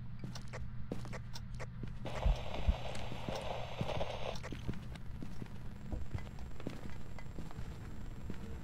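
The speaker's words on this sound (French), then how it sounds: "les bruits de pas semblent normaux et légèrement réduits" Ghost footsteps during a hunt in the video game Phasmophobia, a steady run of soft, regular thuds with a low hum underneath and a brief brighter noise burst partway through.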